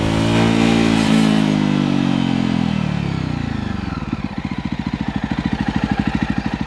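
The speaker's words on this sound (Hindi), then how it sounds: "तो इस मोटरसाइकिल को मैं चला चुका हूं" A Jawa Perak motorcycle engine, loud and close, revving high then easing off, settling into a rhythmic low thumping idle-like beat as the revs drop.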